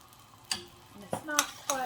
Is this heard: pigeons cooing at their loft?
no